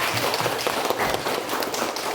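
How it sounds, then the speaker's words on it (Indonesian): A classroom of students applauding a student group, a short burst of dense, fairly loud clapping filling the whole moment. "Tepuk tangan dulu buat kelompok 1."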